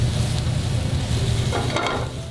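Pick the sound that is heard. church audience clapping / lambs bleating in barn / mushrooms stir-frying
mushrooms stir-frying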